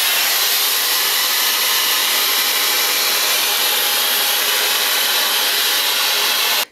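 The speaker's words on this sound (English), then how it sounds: "I hold that down for a few seconds until I can feel that cool air coming through" A Shark FlexStyle hair styler blows cool air in a steady, loud, close whoosh of broadband airflow that holds constant for several seconds before cutting off abruptly at the end.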